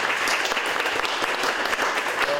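Audience at a presentation clapping in steady, dense applause, many hands at once, loud and continuous with no speech over it.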